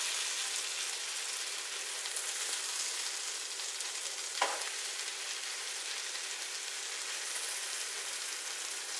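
Spiced Indian potatoes and peas fry in a hot pan with a steady, close crackling sizzle throughout, plus one brief louder pop midway.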